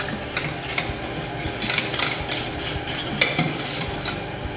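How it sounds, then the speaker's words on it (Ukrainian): A utensil works vigorously through a Paris-Brest cream mixture with cornstarch, producing repeated close scraping and knocking against the bowl or pot in an uneven rhythm. "Кукурудзяний крохмаль. та інтенсивно все перемішуємо"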